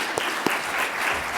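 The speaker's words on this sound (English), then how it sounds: "And let's clap as we go." Steady applause from an audience at a children's book awards ceremony, dense and even throughout the short stretch, with a couple of sharper individual claps standing out.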